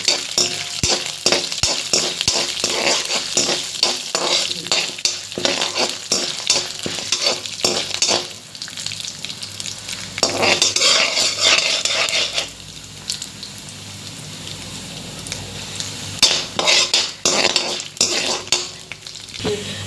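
Mint leaves and dried chillies are stir-roasted in oil for a mint thuvaiyal, with a crackling fry broken by repeated spoon scrapes and knocks against the pan, louder in bursts and quieter between stirs.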